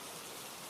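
Steady rain falls in a dense, even hiss, with no breaks or other sounds.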